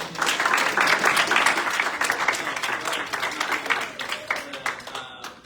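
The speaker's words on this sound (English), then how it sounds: "If anyone, let's just do a round of applause." A round of applause for birthdays at a senate meeting, a modest group clapping briskly, loudest early and thinning into scattered claps toward the end.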